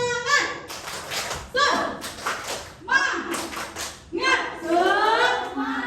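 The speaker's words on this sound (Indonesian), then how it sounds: "Tepuk semangat" A group of teachers claps out a rhythmic spirit-clap ice breaker in a bursts-and-pauses pattern, with voices chanting loudly over and between the claps.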